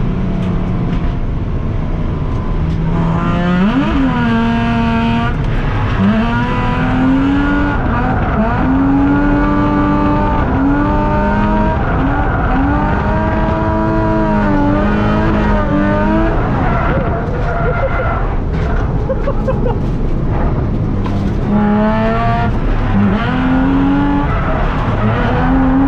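A drift car engine revs loudly and rises and falls in pitch, with tires squealing as it slides at a drift event, close and continuous.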